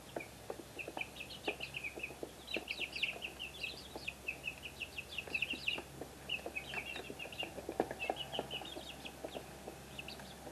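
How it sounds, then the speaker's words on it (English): Chickens in a coop give soft, high chirps and occasional low clucks, scattered and quiet, repeating irregularly throughout. "And they're chirping, so that's a good thing."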